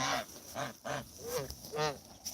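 Geese honking at night as domestic, Canada and cackling geese are herded along, a rapid series of close, harsh honks one after another.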